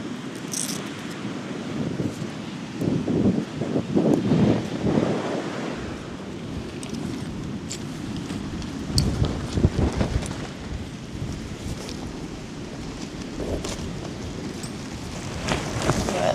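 Strong wind buffets the microphone on a deserted beach, with surf roaring steadily behind as a tent is packed away; loud continuous gusts swell and fade with occasional flaps and knocks.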